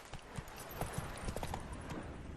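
Hooves of Roach, Geralt's horse in The Witcher 3: Hearts of Stone, clip-clop at a steady walking rhythm through a busy game soundscape, moderately close and fairly soft.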